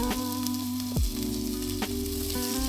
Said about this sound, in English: A little bit of oil in our pot, and we're gonna go ahead and cook up some onions.